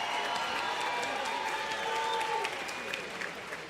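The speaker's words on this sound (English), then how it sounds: "let's give both of these fighters a big round of applause" A crowd in a boxing video game gives the fighters a round of applause. The clapping is steady and moderately loud, blends into a broad wash, and eases off toward the end.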